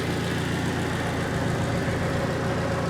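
A used car salvaged at auction, its engine idling in a steady, even rumble, close and continuous with no voices over it.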